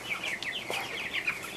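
Backyard Cornish cross broiler chickens cluck and chirp in short, quick, overlapping calls. The sound is close and continuous, with no speech.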